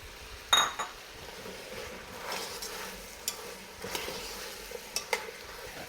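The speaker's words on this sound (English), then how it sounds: "Now you want to let this cook down for at least another 5 minutes, just to soften up the carrots and also the onions and the mushrooms" Mushrooms, carrots and onions cooking in a pan for beef bourguignon, a quiet sizzle broken by several sharp clinks and scrapes of a utensil against the pan, with no talking.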